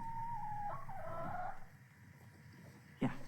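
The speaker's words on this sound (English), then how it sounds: "They're the happiest little chickens." Chickens cluck at a farmyard in Aiken, South Carolina, with a run of short tonal calls at the start, a quieter stretch, then one brief call near the end.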